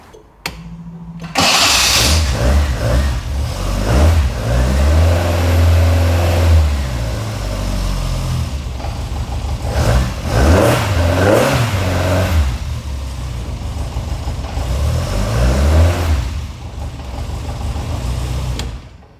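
A Mk1 Ford Escort engine fires up, then revs hard several times, rising and falling in loud, close bursts with a rough idle between each throttle blip.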